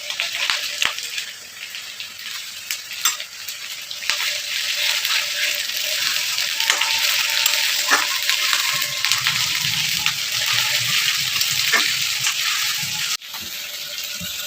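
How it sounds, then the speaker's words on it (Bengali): Onions fry with ginger garlic paste in a pan for mutton curry, a loud, continuous hissing sizzle broken by scattered clicks and scrapes of stirring. "আস্তে আস্তে আদা রসুন বাটাটা দিয়ে দিল দিয়ে আবার নাড়তে থাকে"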